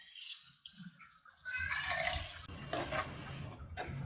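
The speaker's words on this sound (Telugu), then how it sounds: "నేను లైట్గా కొద్దిగా వాటర్ యాడ్ చేసుకుంటున్నాను" A little water poured into a pan of amaranth and tomato curry, a soft splash that swells into a hissing, bubbling rush, close and moderately loud, with a brief pause before it picks up again.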